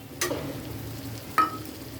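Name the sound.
tomato paste added to sizzling spice mixture in pan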